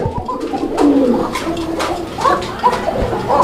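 A fancy pigeon coos in soft, repeated throaty calls, close and moderately loud over a busy background murmur.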